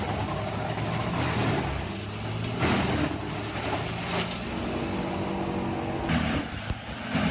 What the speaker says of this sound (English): The WC23000XL features a powerful Cummins engine with up to 440 horsepower, designed to tackle the toughest types of wood.